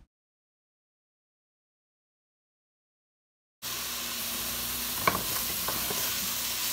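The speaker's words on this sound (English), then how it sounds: "I'm going to saute this vegetable stock in here for about 2 minutes" After a few seconds of silence, mushrooms begin sautéing in vegetable stock in a pan with a steady, fairly quiet sizzle, broken by a couple of brief stirring clatters.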